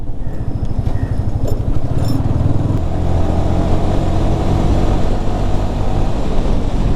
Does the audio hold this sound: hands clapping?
no